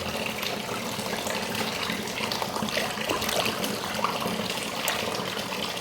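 Running tap water splashes steadily in a sink while vegetables are rinsed clean of a vinegar and salt soak, a continuous close trickle with no talking.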